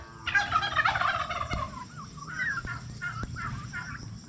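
Large turkeys gobbling close by in a farmyard, a loud burst of rapid warbling calls followed by several shorter gobbles in a loose series, with faint low background noise.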